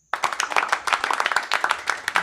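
Several people clap together in a brisk, uneven burst of applause that carries on steadily after a sudden start.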